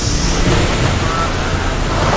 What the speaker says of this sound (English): There's 70 tonne of water coming down in one go.